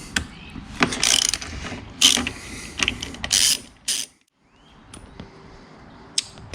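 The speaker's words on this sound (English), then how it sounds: "take these bolts out at the very top that secure the rack, and these are 13 millimeter" Ratchet wrench loosening the 13 mm bolts that secure the rear rack on a Suzuki V-Strom 1050XT motorcycle, a series of close, loud bursts of clicking with short pauses between them.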